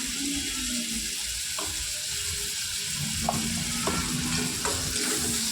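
Prawns frying in a pan with red chilli powder and turmeric, stirred through: a continuous close sizzle with a few sharp scraping and clicking strokes of the utensil scattered across it.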